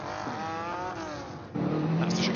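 A Lancia Stratos rally car runs at night through the Goodwood chicane, its engine note climbing and falling through revs and gear changes, with a commentator's voice running over the top.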